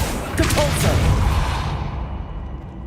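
Spell effects in the Hogwarts Legacy video game, with Accio and Depulso cast in quick succession, giving a couple of soft whooshing bursts over a low rumbling bed that fade away within a few seconds.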